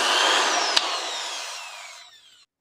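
A 10mm electric drill machine under repair at home runs with a high, whirring motor whine that winds down and fades to silence over about two seconds, with a small click partway through.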